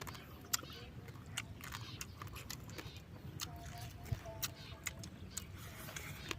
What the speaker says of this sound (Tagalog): Malutong ang buto ah.